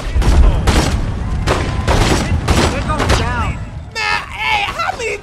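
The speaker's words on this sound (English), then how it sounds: "It seems like they got uh, shotguns over there." Shotgun blasts and gunfire ring out in The Godfather 2 video game, a burst of rapid shots at the start with voices talking over and after the firing.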